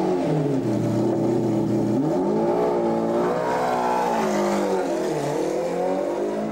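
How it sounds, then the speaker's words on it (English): The BMW V12 of a Gulf McLaren F1 drives past, its engine note rising and falling smoothly through revs and gear changes, loud and close with rich harmonic tones. "there's no better sound than that BMW V12"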